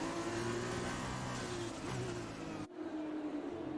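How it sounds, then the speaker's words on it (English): Formula 2 race cars on the formation lap at the Canadian round, a steady droning engine note with a faint rise and fall as cars pass, moderately distant and continuous. "as we go on the formation lap with Brandon Kruger."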